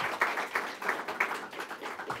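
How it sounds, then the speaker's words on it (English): Audience applause for George Logothetis at a conversation event, a steady run of rapid overlapping claps in a hall, moderately loud and continuous, with no talk over it. "give him a big round of applause"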